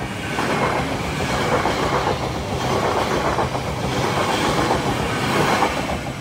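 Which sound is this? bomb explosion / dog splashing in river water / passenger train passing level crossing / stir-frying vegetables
passenger train passing level crossing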